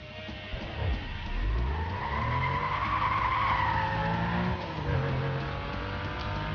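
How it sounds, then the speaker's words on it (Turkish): A car's tires skid and squeal in the video game Need for Speed Most Wanted, a long wavering screech over a rumbling engine that rises and falls for several seconds, with no talk. "Bu arabanın patinajını çözmem lazım ya."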